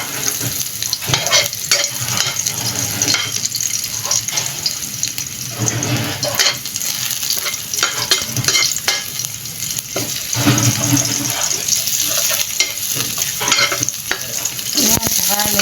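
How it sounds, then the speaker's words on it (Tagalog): Onion and garlic sizzle and fry steadily in hot, bubbling cooking oil, with continuous crackling and occasional stirring scrapes close by, no talk over it. "kumukulo-kulo pa yan yung mantika"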